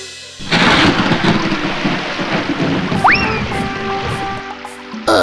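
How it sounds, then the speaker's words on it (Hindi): Steady heavy rain pours throughout, with rumbling thunder rolling underneath; no one speaks. "बारिश आ रही है, बारिश आ रही है।"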